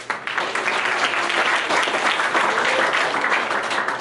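Steady, dense applause from an audience at the TechPint II tech conference in Akron, loud and continuous for the whole stretch with no break in the clapping.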